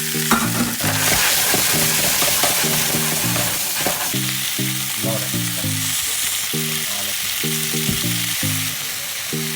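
Deboned fish for fish in coconut milk fries in a pan with a dense, continuous sizzle and crackle, while repeated clinking utensil strikes and stirring scrapes sound over it throughout.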